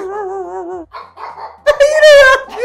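A dog gives a few strained, wavering barks and yelps, close and loud, as it slides backwards.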